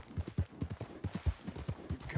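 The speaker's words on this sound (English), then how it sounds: "Who's a good horse?" A horse's hooves clip-clop at a steady, even walking pace in a PS4 video game, a rhythmic series of muffled thuds, roughly ten hoof falls in two seconds.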